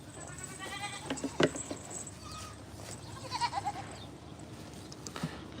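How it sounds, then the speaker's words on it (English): Goats at an eastern Pennsylvania homesteading festival bleat several times at close range, with short wavering calls scattered over a busy outdoor background. "Let me find my goats."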